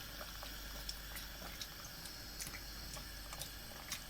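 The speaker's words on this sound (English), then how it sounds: "we've had that bubbling away now for 10 to 15 minutes" Soft, continuous bubbling of a pot on the boil, with scattered small pops over a quiet low hum, no talking.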